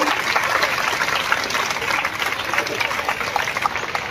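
An audience at a school Urdu elocution competition applauds to welcome the guests, sustained clapping from many people that carries on steadily, with some voices faintly underneath.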